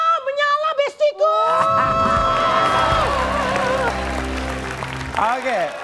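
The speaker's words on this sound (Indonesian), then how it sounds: "Kita kasih tepuk tangan buat Po Alpa." A stand-up comedy show crowd claps and cheers, a broad roar of applause with loud voices and whoops riding over it, close and sustained for several seconds.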